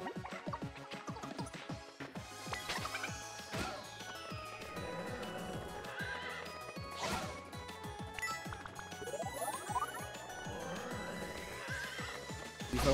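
Horse neighing in the Miitopia video game, a loud whinny rising over busy game music and sound effects with clip-clopping hooves, dense and continuous throughout.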